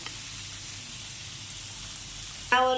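Pomfret fish frying in a pan, a steady close sizzle of hot oil running throughout, with a brief louder clatter near the end.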